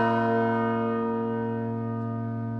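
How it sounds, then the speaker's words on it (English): A carillon of tuned brass church bells rings in a sustained, resonant chord, with strong steady harmonic tones slowly decaying over a few seconds, loud and alone with no voices. "A carillon is a set of tuned brass bells, 23 to 97 of them depending on its size."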